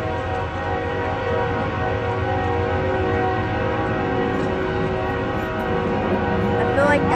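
A heavy freight train rumbles past continuously, a dense droning roar with steady metallic tones that stays loud throughout.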